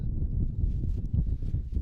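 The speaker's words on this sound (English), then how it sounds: "Still windy, blustery conditions here in Cartaxo." Blustery wind at an open-air cricket ground in Cartaxo, Portugal, buffets the microphone as a steady low rumble with gusty swells, loud and close, with no voices over it.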